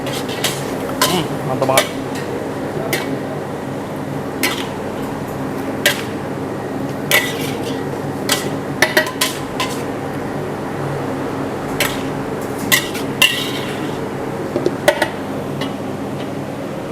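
Bean sprouts and dried shrimp are tossed in a pan as a stir-fry, with repeated sharp clinks and scrapes of a utensil against metal at an irregular rhythm while a person speaks briefly.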